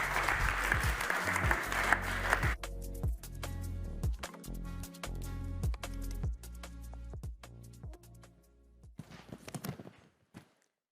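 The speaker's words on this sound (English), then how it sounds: "Big round of applause for you guys" Audience applause at a panel conversation on global competitiveness, a dense burst of many hands for the first two seconds, then thinning into scattered individual claps that trail off and stop near the end.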